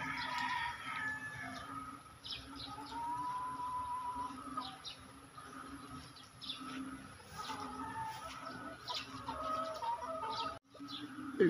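Rain-soaked chickens after a night of rain, clucking softly and calling now and then at close range over a quiet background, with a sharp knock near the end.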